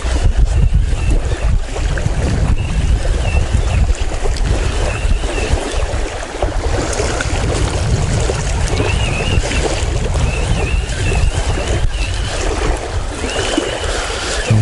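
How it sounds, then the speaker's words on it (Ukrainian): Strong wind roars and buffets the microphone continuously, mixed with rushing water and creaking from a fishing boat on the Dnieper River in Kyiv, loud and unbroken throughout. "Вітер роздувся."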